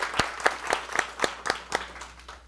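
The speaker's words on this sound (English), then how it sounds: "let's give Miss Price a round of applause in her absence" Scattered applause from a small group at a school board meeting honouring an absent teacher, with distinct individual claps ringing out irregularly for a couple of seconds, fairly close and moderately loud, no talking over it.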